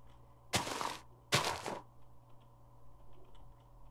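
Two quick crunchy Minecraft block-breaking sounds about a second apart, clear against a quiet electronic hum, followed by faint ticks.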